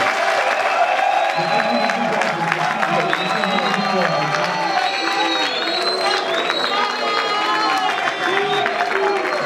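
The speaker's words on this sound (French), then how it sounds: "je vous demande d'applaudir sincèrement maman Nelly Kiwewa" An audience at a political presentation for a governors' election applauds, clapping and cheering mixed with crowd murmur and shouted voices, loud and sustained for the whole stretch.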